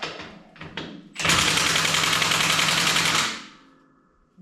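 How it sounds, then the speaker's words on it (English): A power impact tool pops bolts off an Allis Chalmers G tractor in one loud, rapid rattling burst about two seconds long, after some faint clanks, then winds down. "let's start popping some of these bolts off here"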